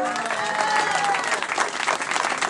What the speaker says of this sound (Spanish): un nuevo fuerte aplauso, por favor